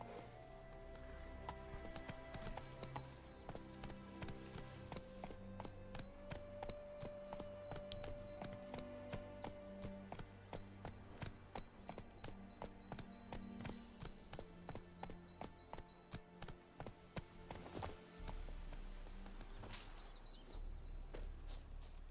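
Geralt's horse Roach walks with rhythmic hoof clip-clops in The Witcher 3, steady and moderately close under game music and ambience, growing more distinct toward the end.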